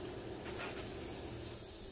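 A paint spray gun hisses steadily in a shop while coating a Farmall Super A tractor, a continuous airy spray with no talking.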